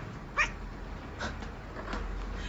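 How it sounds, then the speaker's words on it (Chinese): A small cat gives a few faint, short meows spread across a couple of seconds over a low, steady background hum. "要学猫叫，不要狗叫。"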